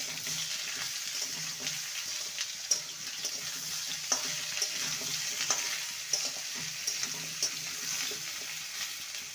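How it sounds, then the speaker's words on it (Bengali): About five hundred grams of ridge gourd fries in oil in a pan, a soft continuous sizzle with occasional stirring clicks and scrapes, steady and moderately loud. "এখানে পাঁচশো গ্রামের মতো ঝিঙে রয়েছে ঝিঙেটাকে ভেজে নেব মিনিট দুই তিনে"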